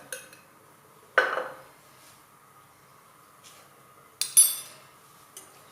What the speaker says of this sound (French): Je vais mélanger le tout.